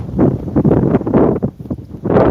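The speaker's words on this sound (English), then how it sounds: "It's still windy." Strong outdoor wind buffets the microphone in loud, uneven gusts, a rumbling rush that swells and fades several times with no speech.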